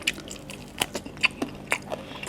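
Close crisp bites and crunching chews on crunchy food at a shared meal, about half a dozen sharp crackles spaced irregularly with no speech.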